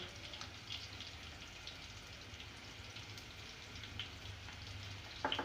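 Potatoes with chillies, turmeric and salt frying in a pan for aloo palak, a soft continuous sizzle and crackle at low level, steady throughout with faint spits and pops, no talk.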